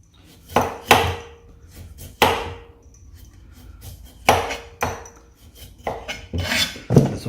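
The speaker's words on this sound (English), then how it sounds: "just slice this outside skin off, just like that" A knife slices the outer skin off a broccoli stem on a cutting board, giving close, sharp knocks and scraping cuts in an irregular rhythm with short pauses between strokes.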